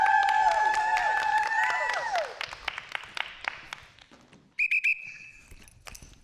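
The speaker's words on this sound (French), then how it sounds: "Et public en délire, on peut les applaudir!" An audience at an improv match claps and whistles loudly for the players as they take their benches. Shrill whistles ride over the applause, which fades out before a short burst of piercing whistle tones near the end.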